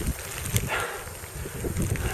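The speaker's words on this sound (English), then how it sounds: "The conditions are getting really bad. It's snowing like crazy, sleet," Gusty wind on a mountain hike during snow and sleet, a steady rushing buffet against the microphone with a few stronger gusts, close and fairly loud, no voices.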